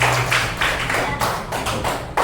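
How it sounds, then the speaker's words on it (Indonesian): Children in a classroom clap together, a quick irregular patter of hand claps rising and falling in short bursts over about two seconds. "Tepuk tangan buat anak-anak."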